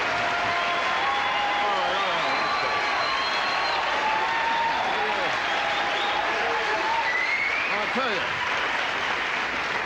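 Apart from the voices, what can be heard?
audience applause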